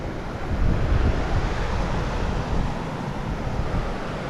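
Steady, dense roar of a waterfall in Muskoka, loud and continuous with no breaks.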